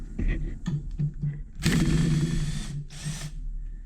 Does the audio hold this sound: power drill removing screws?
yes